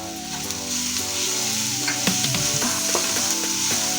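Green ground paste fries in oil with salt for a bread and pea patties filling, a continuous close sizzle broken by repeated scraping stir strokes and utensil clicks, with no speech.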